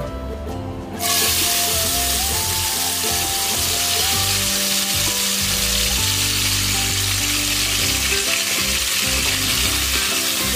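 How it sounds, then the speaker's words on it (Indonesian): Spice paste hitting hot oil in a wok, a sudden loud hiss after a quiet second that settles into a dense, continuous sizzle with soft stirring scrapes, heard alone without talk. "kemudian kita akan tumis bumbunya"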